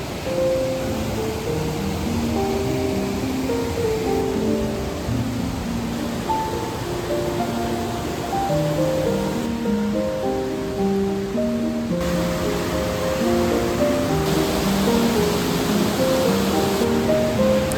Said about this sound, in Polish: Do tego dźwięk bystrej rzeki i chłód od kamieni i wody.